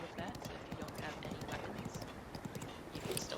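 Hooves clip-clop in a fast, steady gallop as a horse runs in The Legend of Zelda: Breath of the Wild, the rhythm continuous and moderately quiet beneath someone talking.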